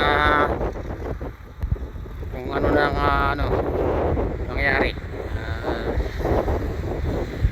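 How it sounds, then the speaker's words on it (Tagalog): Strong wind gusts roar across the microphone on Jokno Bridge over Manila Bay in Pasay as rain returns, a heavy, continuous rushing buffet under someone talking. "Grabe ang lakas ng hangin dito mga kabayan, dito na sa Jokno Bridge"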